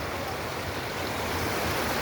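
Water diverted from a stream pours down into a channel near small fish ponds, giving a steady, even rushing wash without pause or voices.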